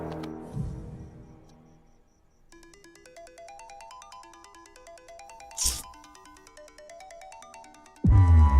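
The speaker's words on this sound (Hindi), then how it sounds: "तुम्हारे नंबर से मुझे कॉल आ रहा है" A mobile phone ringtone for an incoming call in a Hindi-dubbed sci-fi film, a steady repeating electronic melody that plays alone for several seconds, with a brief sharp noise in the middle and a loud thump at the end.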